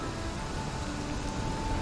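Steady rain falling in Valheim, a dense unbroken hiss of even loudness with no pauses and no voices.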